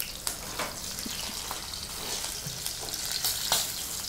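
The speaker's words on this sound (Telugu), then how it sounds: "ఇంకా లేదండి, నూనెలో వేపాలి" Onion, coriander seed, cumin and garlic paste frying in hot oil for an okra and fish tamarind curry, giving a steady broadband sizzle with occasional stirring clicks and scrapes, close and continuous, no voices.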